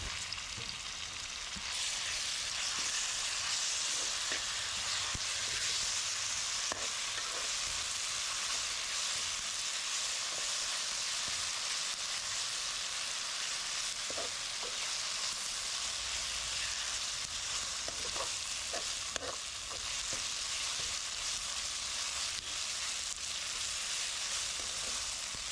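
Curry leaves and ginger garlic paste fry in a pan, giving a steady, dense sizzle throughout with a few soft crackles and pops, close and continuous without any talk.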